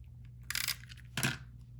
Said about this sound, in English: Then I'll use my snips to cut off the excess.